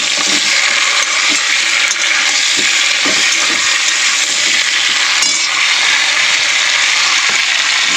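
Chopped tomatoes sizzling in hot oil in a pan for a light fish curry, a steady dense hiss of frying throughout with occasional small crackles and pops, close and continuous.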